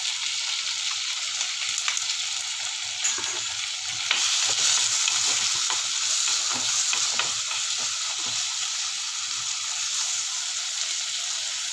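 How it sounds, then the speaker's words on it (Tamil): Garlic, tomato and onion fry in a pan, lightly sautéed, with a steady close sizzle and the scrape and clack of stirring throughout and nobody speaking. "ரொம்ப வதக்க வேண்டாம், சும்மா லைட்டாக வதக்கினா போகிறோம்"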